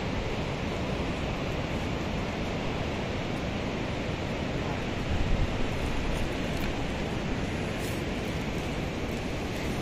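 At Sandhan Valley's reverse waterfall, water rushes in a dense, unbroken roar, loud and steady throughout with no voices.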